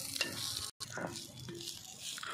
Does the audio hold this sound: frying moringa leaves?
yes